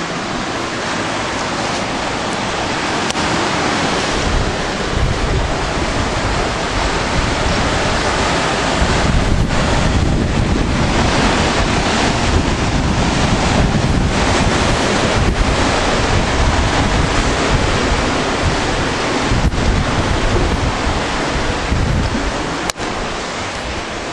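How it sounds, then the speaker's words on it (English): Ocean waves breaking continuously along a shore, a loud, dense roar of surf mixed with heavy wind buffeting the microphone, steady throughout with no voices. "we wake up every day to the sound of waves, and we sleep to the sound of waves"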